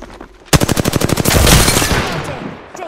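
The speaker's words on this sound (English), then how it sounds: "Listen up, I'm getting shot at." Automatic weapon fire in the Apex Legends battle royale game bursts in suddenly as a loud, rapid stream of close shots, then blurs into a dense roar of gunfire before fading, with no talking.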